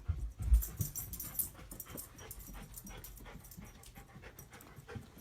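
A dog pants quickly and steadily up close, with a louder snuffling start that settles into soft, even breaths.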